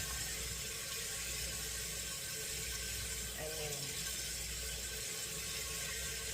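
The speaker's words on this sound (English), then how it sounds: "Let me rinse this out." A tap runs steadily as a container is rinsed out while making melt-and-pour soap, a constant rushing water sound at moderate distance with no talking.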